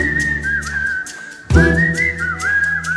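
A sharp melodic whistle as played in Hindi film songs, a series of clear bright repeated notes with sliding pitch, broken by a brief pause, with soft instrumental backing underneath.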